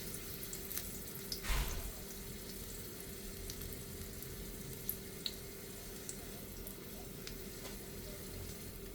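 Garlic sautéing in hot oil for fried bitter melon (karela), a soft, steady sizzle with a faint watery hiss, broken by a brief louder burst and a few small ticks and clinks, no talking.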